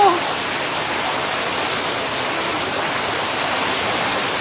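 Rushing flood water pours in a steady, broadband roar that stays loud and unbroken throughout, filling the scene without pause; no voices are heard over the continuous torrent.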